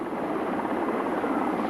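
A Soviet Mil Mi-8 transport helicopter flies past, its dense, steady rotor and turbine roar filling the short stretch at a loud, even level with no voices.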